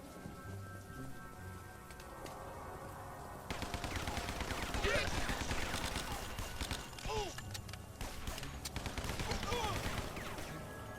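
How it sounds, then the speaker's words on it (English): A Tommy gun rattles off rapid bursts in a side-scrolling video game, fast clattering fire that starts a few seconds in and runs in waves over game noise, with someone talking throughout. "I'm gonna get myself a Tommy gun"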